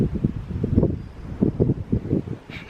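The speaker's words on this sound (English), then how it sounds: "Sorry about the wind too, I'm sure you guys can hear it." Wind gusts buffet the microphone on a forest hiking trail near Asheville, North Carolina, a steady low rumble with irregular surges across the whole stretch, close and fairly loud.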